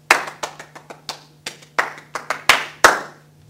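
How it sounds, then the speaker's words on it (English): A small audience claps for the school soccer and softball teams: a loose burst of individual hand claps, sharp and close, coming in uneven bunches for a few seconds before stopping. "Let's give them a round of applause."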